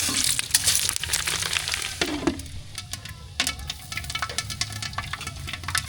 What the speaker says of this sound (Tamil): மிளகு நல்லா பொரிஞ்சிருச்சு